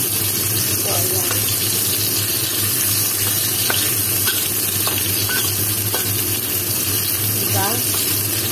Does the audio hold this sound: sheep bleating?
no